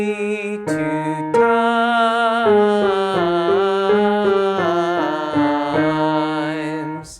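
Solo piano plays a lyrical singing-exercise phrase with both hands, a clear bass line beneath a stepwise melody that ends in a long flowing run, close and steady with no voices.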